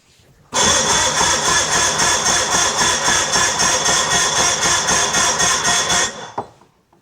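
A 1986 Mercury 90 hp outboard engine cranks over during a compression test, a loud rapid rhythmic chugging that runs steadily for about five and a half seconds and then stops abruptly, with a brief clatter afterward.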